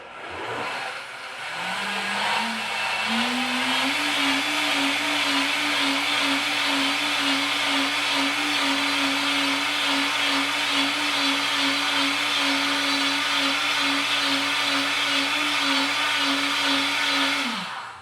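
A Vitamix blender purées cauliflower soup, a loud steady motor whine that ramps up in steps and then holds at high speed for many seconds before cutting off.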